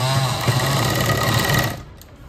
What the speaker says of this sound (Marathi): इथे ना पूर्ण वरच्या साईडला पूर्ण अशी शिलाई मारून घ्यायची